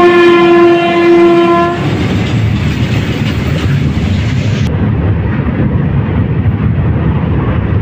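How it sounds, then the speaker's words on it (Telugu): A goods train rolls past loudly on the opposite track near Samalkot's outer signals, a steady close rumble of wagons following a long horn blast at the start. "ఆపోజిట్లో అయితే గూడ్స్ ట్రైన్ వస్తుంది"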